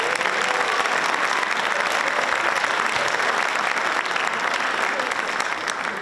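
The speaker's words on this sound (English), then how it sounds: "nice round of applause for all of our student athletes tonight" A crowd gives student athletes sustained, dense applause at a varsity jacket night, loud and even throughout with no break.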